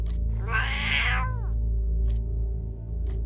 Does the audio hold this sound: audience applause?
no